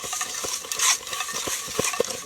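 Metal plate scrubbed with soap and sand, a close, rough scraping and rubbing with repeated gritty strokes in a quick irregular rhythm, no talking.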